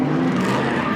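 A 1979 Toyota Celica drift car with bash bars and aftermarket exhaust, on 175/13 tires, roars loudly up close with skidding tire noise as a blowout happens, one dense burst of engine and rubber with no talk.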